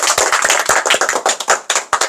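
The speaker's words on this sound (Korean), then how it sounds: "일단 우리 시상하기 전에 박수 한번 치자" A group of office staff claps at an awards gathering, quick sharp handclaps in a dense, slightly uneven rhythm, close and loud, without talking.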